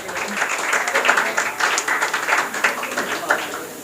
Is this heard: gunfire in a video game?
no